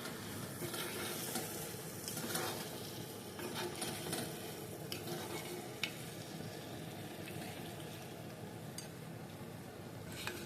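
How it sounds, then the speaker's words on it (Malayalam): Curry leaves go into a frying prawn roast, producing a steady crackling sizzle with scattered stirring scrapes and light clicks throughout, close and moderately loud with no voices. "അപ്പൊ നമുക്ക് ഇനി ഇത്തിരി കറിവേപ്പില ഇതിലോട്ട് ഇട്ട് കൊടുക്കാം"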